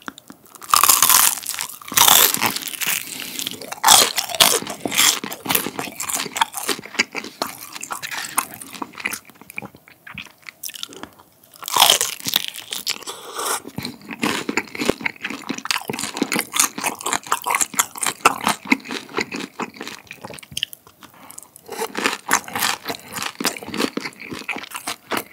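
Crispy fried guobaorou, Chinese sweet-and-sour pork, is bitten and chewed close to the mic, giving loud repeated crunches in uneven bursts through the whole stretch, with no talking.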